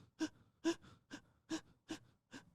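A person imitates altered, gasping breathing of the kind linked to trauma. There are six sharp, breathy gasps at a steady rhythm about every 0.4 seconds, close and quiet, with brief pauses between them.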